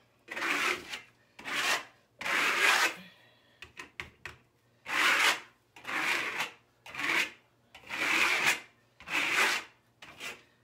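Repeated rough scraping strokes of a trowel dragging across a plastered wall, close and steady in rhythm, with a brief cluster of quick clicks midway.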